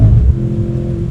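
A 2025 Mercedes-AMG C43 with a V6 engine gives a loud, close engine drone, a brief throaty burst that settles into a sustained, steady hum.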